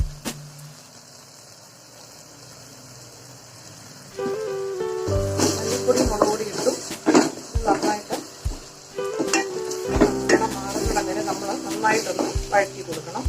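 Coriander powder and chili sizzle in a hot pan for butter chicken, the quiet opening giving way to loud, uneven frying crackle and scraping stirs that rise and fall through the rest.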